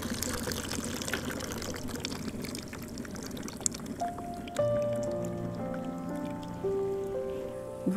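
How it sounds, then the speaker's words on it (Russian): Boiled water is poured out of a preserving jar through a homemade lid pierced with knife holes, making a steady splashing gush that gives way to thinner trickles and drips. "Теперь нужно эту воду слить."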